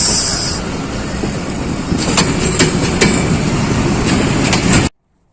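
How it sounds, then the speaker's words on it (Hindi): Pakistan Express rolling along the rails near Gujar Khan railway station, a loud continuous rumble with sharp rhythmic clicks of wheels over rail joints, cutting off abruptly at the end. "45 पाकिस्तान एक्सप्रेस गुजर खान रेलवे स्टेशन पर शकलाला आमद हो गई है जी"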